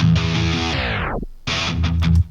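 A distorted electronic synth pattern plays, then its pitch slides sharply downward and cuts out before the pattern starts again, loud and up front.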